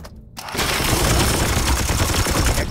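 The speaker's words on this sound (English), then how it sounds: "Firing on target!" Sustained loud automatic gunfire from Warhammer 40000: Chaos Gate Daemonhunters, a dense continuous rattle that begins abruptly after a brief quiet moment.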